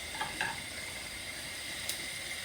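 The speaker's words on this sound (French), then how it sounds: "on va faire cuire tout doucement avec le potimarron coupé en petits cubes" Diced red kuri squash cooks gently in sesame oil, giving a soft, steady sizzle with a few faint clinks near the start and a brief tick near the end. The sound is close and continuous, with no voices.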